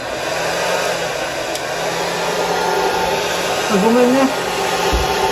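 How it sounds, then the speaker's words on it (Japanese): A hair dryer blows steadily and fairly loud to dry acrylic paint on a canvas, its broadband whoosh constant throughout, with a brief spoken remark and a cat's short cry near the end. "ドライヤーをかけて乾かそうと思います。"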